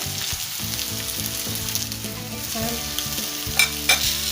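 Whole cumin seeds and whole dried chillies frying in hot oil, browning, with a continuous close sizzle and a couple of sharper clinks near the end, no voices.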